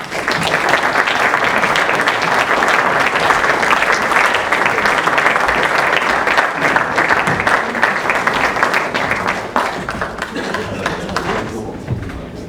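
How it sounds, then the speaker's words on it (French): A dense, sustained round of audience applause for three women film directors at a festival opening evening, steady and loud for about twelve seconds before tapering slightly at the end. "on va demander à Isabelle Coulon, Sacha Gerdan et Jeanne Mascolo de Philippines, les 3 réalisatrices, de venir avec Olivier Archambault, encore une fois, pour les applaudir"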